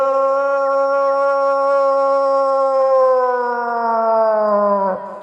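A mimicry artist imitates a dog howling, holding one long, loud, close wail that slowly drifts downward in pitch and breaks off at the end.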